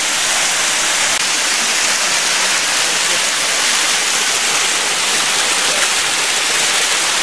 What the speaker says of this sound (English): And what do you think of the waterfall?